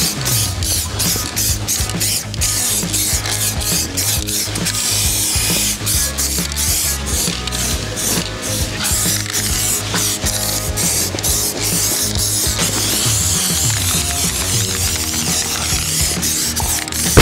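Trailer floor being spray painted with rechargeable electric paint sprayers: a loud, continuous, close hissing and mechanical buzzing runs unbroken through the whole stretch, with no voices.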